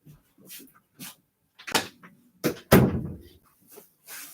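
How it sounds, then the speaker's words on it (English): A door is pushed shut indoors with a sharp, close thump, one of several knocks and bumps spread across a quiet room with brief pauses between them. "I'll shut the door."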